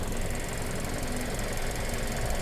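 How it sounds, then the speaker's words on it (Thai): A 2018 Toyota Camry 2.5G with the engine running, a steady, continuous idle with a rough knocking texture and a faint whine, close up and alone. "เสียงเครื่องยนต์นะครับ เดิม ๆ"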